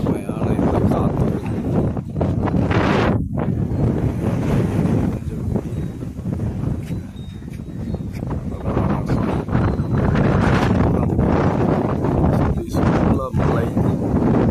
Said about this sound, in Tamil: அருமையான இந்த காற்று